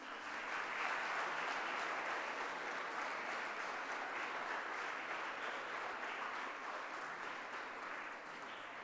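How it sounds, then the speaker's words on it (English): Audience applause fills a school opening ceremony, a steady, dense wash of clapping that carries on without a break, moderately loud and slightly distant. "Please keep clapping as joyfully as you may."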